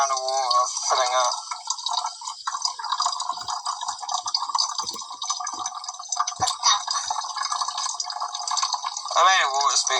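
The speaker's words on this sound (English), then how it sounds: "Hear that sound of water filling up." Water filling a homemade Lego water speaker fed by two pumps, a continuous close trickling and bubbling with gurgling rises, heard under steady electronic-sounding tones.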